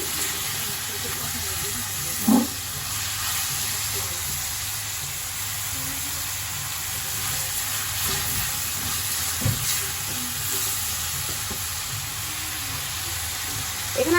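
Pasta frying in a pan gives a continuous, moderately quiet hiss and sizzle. A few brief knocks and thumps sound over it.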